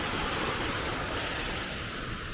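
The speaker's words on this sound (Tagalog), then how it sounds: "very relaxing talaga yung tunog ng water" Flowing water in a Japanese garden at Ohori Park, Fukuoka makes a steady, soft, broadband rush with no pauses or voices.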